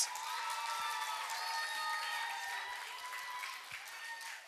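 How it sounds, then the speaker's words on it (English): An audience at a clown debate event in Boston claps and cheers, dense steady applause with a shout or two, heard somewhat distant and consistent over a few seconds. "Give them a round of applause."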